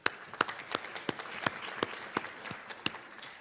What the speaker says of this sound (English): So big round of applause for you guys.